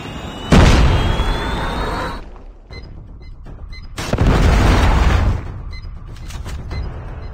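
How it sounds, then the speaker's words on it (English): Two heavy booming blasts from a Predator missile strike in the shooter game Call of Duty Mobile, each sounding loud and close and rumbling on for over a second, with lighter battle noise in between. "Predator missile inbound."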